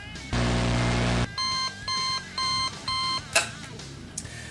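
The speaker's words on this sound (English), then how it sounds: "Let's see if it's going to buzz." An alarm clock lets out one long loud buzz, then four shorter evenly spaced beeps, followed by a click and quiet.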